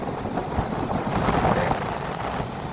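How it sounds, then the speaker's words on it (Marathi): Rough, stormy sea breaking at the shore, a continuous broadband roar of surging waves mixed with gusty wind buffeting close by, steady and loud without clear pauses. "समुद्र खूप खवळलाय, मरणाचा खवळलाय बघा"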